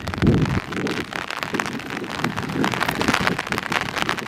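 Strong gusting wind in the Bunya Mountains buffets the microphone nonstop, a loud rough roar with pattering bursts and no clear voices.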